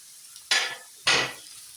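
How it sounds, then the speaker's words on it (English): Two sharp bursts of sizzling as grated carrots hit a hot pan, each hiss flaring loudly then fading, with quiet between them. "now I'm frying this"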